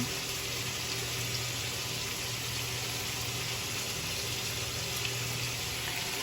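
Cooked noodles for carbonara are rinsed under a running kitchen tap, a continuous, even rush of flowing water, close and steady with no pauses and no talk.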